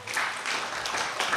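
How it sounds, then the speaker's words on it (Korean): Steady burst of applause from a classroom audience of students, a dense even patter of many hands clapping at moderate loudness, continuing without talk. "박수 한번 주세요."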